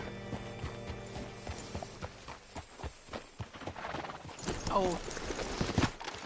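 In Red Dead Redemption 2, a horse's hooves clip-clop steadily alongside mechanical clicks, then the horse whinnies near the end while a voice speaks briefly.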